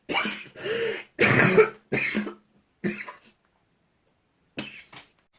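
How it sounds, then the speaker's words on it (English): A run of harsh, repeated coughs in quick bursts, close and loud, followed by a pause and one last cough, from a person with the flu. "I just had a coughing fit"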